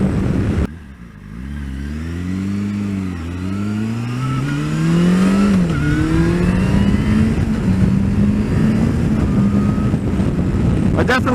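A 2009 Yamaha FZ6 motorcycle revs up through the gears while riding, its engine pitch climbing, dipping at each shift and climbing again, loud and close under steady wind noise.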